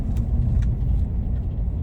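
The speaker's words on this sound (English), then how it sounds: "Look at this white truck going now." A squatted white work truck rolls past on a Lakeland, Florida road in Polk County, giving a close, loud, continuous low rumble across the whole moment.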